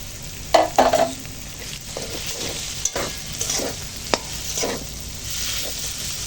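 A spoon stirs cooked snake gourd together with fried onions in a pan, giving a few scattered scrapes and clatters over a faint background sizzle.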